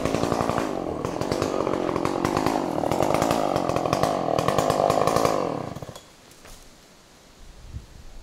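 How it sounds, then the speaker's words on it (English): A chainsaw runs loud and close at a riverside campsite, a harsh buzzing drone with rapid chain rattle that holds steady for several seconds, then cuts off abruptly, leaving quiet outdoor ambience. "That's a noisy fucking chainsaw."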